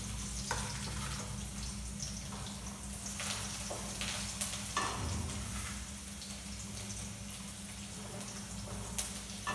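Garlic and green chillies frying in an Indian pan, a steady hiss and sizzle with occasional soft clinks of a spoon stirring, close and continuous.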